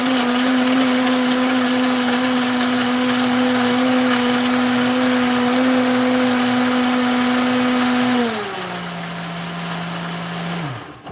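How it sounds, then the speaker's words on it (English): A blender whirs loudly and steadily while blending a smoothie, then its motor pitch drops as it is turned down, runs lower for a few seconds and winds to a stop. "I like to turn the blender down at first and then turn it back up."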